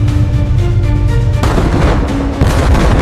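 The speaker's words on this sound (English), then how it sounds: "The island's point defense cannons open up, weaving a dense web of intercepting fire." Point defense cannons on a fortified island base open up at night, a loud, dense, continuous roar of rapid booming fire with sustained rumble throughout.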